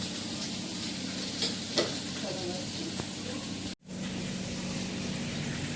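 Vegetable curry sizzles steadily in a tempering of hot oil on a home gas stove, a close, even frying hiss with a few stirring clinks and a brief cut near the end.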